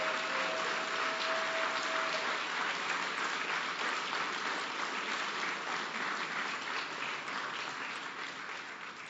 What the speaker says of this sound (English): I want us all to take a moment to give a big round of applause